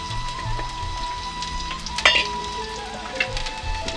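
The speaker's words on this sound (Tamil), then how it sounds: "இதை சேர்த்து இது நல்லா கோல்டன் ப்ரௌன் ஆகிற வரைக்கும் நல்லா ஃப்ரை பண்ணிக்கோங்க" Small shallots frying in hot oil with a few curry leaves, giving a steady close sizzle with light crackles and a brief louder spatter partway through, no talking.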